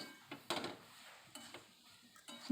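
Mixed vegetable curry (labra) being stirred in a pot with a spoon, a few scraping, clinking strokes against the metal with soft sizzling in between, close and fairly quiet.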